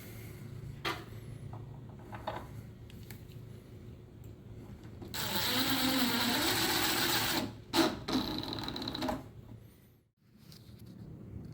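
Screws are snugged into the wooden legs of an IKEA Kallax unit, heard as a close, steady whirring grind lasting a couple of seconds, then a few knocks and clicks in a quiet room.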